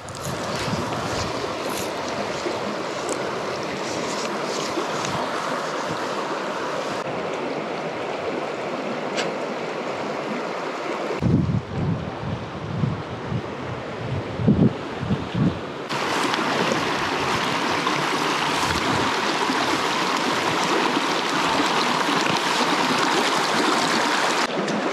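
Cold water flowing outdoors, a broad steady rush of running water with wind buffeting the microphone, interrupted midway by a few seconds of closer thumps and handling noise before the rush resumes.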